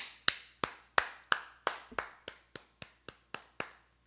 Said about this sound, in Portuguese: Deixa eu bater palmas aqui para Alain René